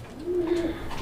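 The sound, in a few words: shatting pigeons cooing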